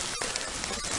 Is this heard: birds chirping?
no